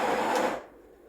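The built-in grinder of a Breville BES870 Barista Express grinding coffee beans gives a loud whirring buzz for about half a second, then cuts off abruptly into quiet.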